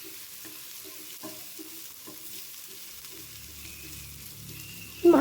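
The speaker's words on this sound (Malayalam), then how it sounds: "ഇതൊക്കെ ഒന്ന് നല്ല കൂടി മസാല നല്ല ഒന്ന് ഇളക്കി കൊടുക്കുക." Masala spices and ginger-garlic paste stirred in a hot pan for chole, with soft scraping strokes over a steady low sizzle and a louder clatter at the very end.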